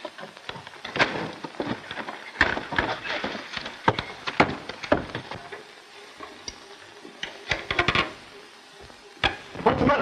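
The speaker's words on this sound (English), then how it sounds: "There's his horse." Irregular clopping hoofbeats over a noisy, hissy background, with scattered knocks and thuds throughout.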